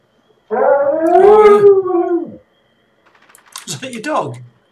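A howl rises and wavers for about two seconds, then after a pause a shorter, falling howl follows; the howling comes from a person imitating a dog rather than a real animal, loud and close.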